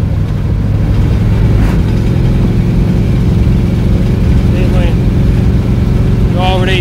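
An old 1986 Chevrolet Suburban dually truck driving, a loud steady engine drone with road rumble running continuously, with a voice heard over it.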